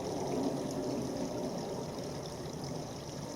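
Water flowing steadily from a pipe in a woodland, a soft continuous trickle and gurgle alongside a nearby stream, faint and even throughout.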